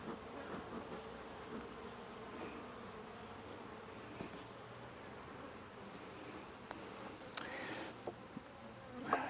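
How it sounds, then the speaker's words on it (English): Honeybees buzz steadily around an open brood box during a late-May hive inspection, a dense close swarm drone with occasional louder passes and faint rustling near the end. "I do actually have bees on me now."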